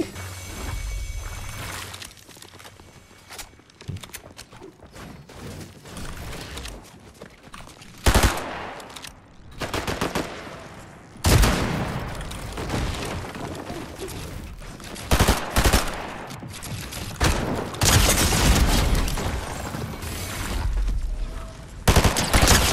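Fortnite gunfire during a solo Cash Cup match: repeated bursts of rapid shots and single cracks spread across the whole stretch, loud and close, with a faint voice now and then.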